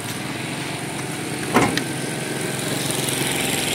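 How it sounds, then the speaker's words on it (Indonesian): A Toyota Camry's 2500 cc engine runs at a steady idle, a continuous close engine drone with one brief knock partway through. "Untuk mesin ini raungan mesin 2500 cc Camry teman-teman ya"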